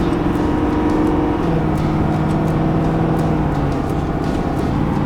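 A 2020 Ford F-450 Super Duty King Ranch pickup with a 10-speed transmission, towing, its engine droning steadily from inside the cab as it runs through the short gears, with a constant loud hum and shifting tonal pitch.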